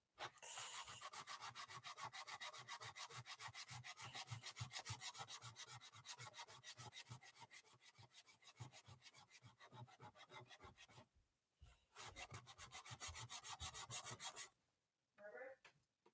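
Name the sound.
sanding wood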